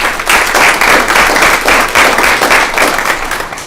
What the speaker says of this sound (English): So big round of applause to those who served on those as well.